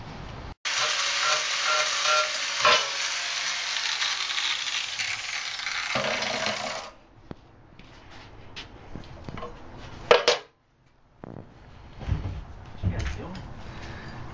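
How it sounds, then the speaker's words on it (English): Angle grinder working the ends of cut steel rock slider end caps, a loud harsh whine up close for several seconds before cutting off, then scattered clanks and handling noises with some talk. "Got them cut, ready to go, and just grinding the ends"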